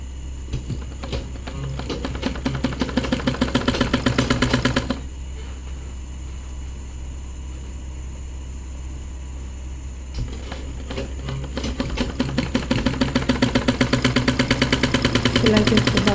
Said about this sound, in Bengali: এখানে আমরা 2 পাশ সেলাই করে নিব।